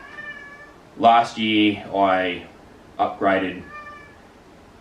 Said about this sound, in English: So sorry about the cat, he wants to be in on the video.